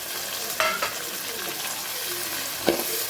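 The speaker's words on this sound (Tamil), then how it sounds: "நம்ம கட் பண்ணி வச்சுருக்க தக்காளியை வதங்கிக்குவோம்" Chopped tomatoes added to sautéed onions and stirred in a pan for quail gravy: a continuous soft sizzle with a couple of distinct spatula scrapes.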